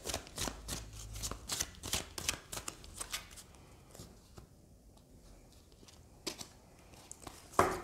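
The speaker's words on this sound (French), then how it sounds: "Voilà, je vais poser les cartes." Oracle cards are shuffled and handled in a rapid series of crisp riffling flicks, then laid out with softer taps and slides, close and fairly quiet with no talk.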